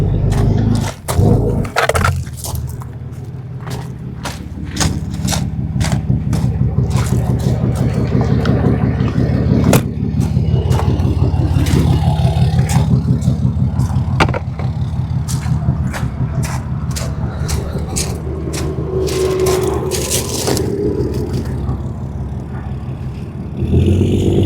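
A 40-foot RV in tow-haul mode idles and creeps forward in the desert, its engine producing a steady, close, low rumble with scattered clicks and knocks throughout.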